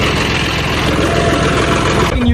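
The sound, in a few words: tractor engine running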